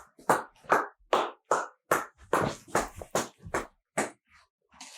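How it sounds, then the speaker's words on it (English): A person claps their hands about a dozen times in a steady rhythm, crisp and fairly close, with a dog nearby during a relaxation exercise. Nobody speaks. "clapping your hands, and return"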